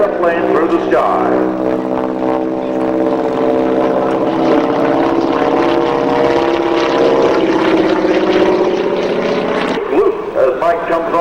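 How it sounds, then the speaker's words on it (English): A propeller airplane slowly rolls to the left during an aerobatic display at a 1998 air race in Valleyfield, Tasmania, its engine a steady droning hum under a commentator's voice. "slowly rolling the airplane through the sky"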